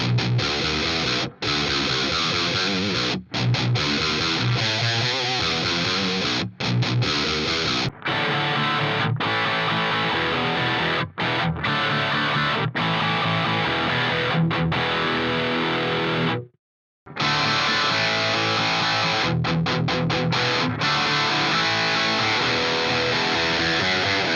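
Distorted electric guitar playing rock riffs through Friedman amp simulation plugin tones, loud and sustained with brief pauses between phrases and one short silent gap near the end.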